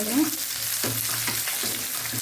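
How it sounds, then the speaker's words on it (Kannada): Onion frying in a pan with whole spices, a steady close sizzle broken by a few soft stirring scrapes, brief and without speech. "ಈರುಳ್ಳಿ, ಚೆನ್ನಾಗಿ ಫ್ರೈ ಆಗಲಿ."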